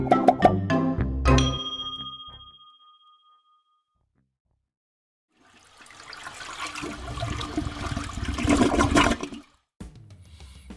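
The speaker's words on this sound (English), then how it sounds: "we try to find out how many flushes it takes to get rid of these meadow muffins" A toilet flushes, with a bright chime-like start, then quiet, then a loud rushing, gurgling swirl of water that drains away and stops abruptly, all close up and without speech.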